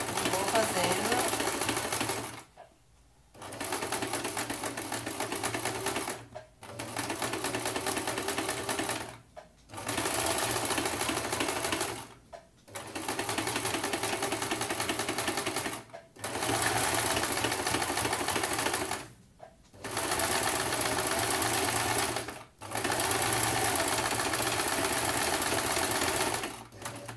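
A domestic sewing machine stitches a heart-shaped appliqué onto a cloth diaper, running in steady loud bursts of several seconds, broken by short pauses as the needle stops to pivot. Someone talks quietly at times over it.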